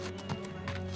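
A tired horse moving along, with steady clip-clop hoofbeats close by, joined by a constant low hum and a few scattered taps.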